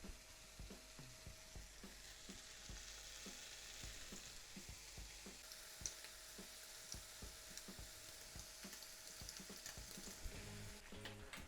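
Bacon slices for a sandwich sizzle and crackle steadily in a hot frying pan, a close, continuous frying hiss with scattered pops.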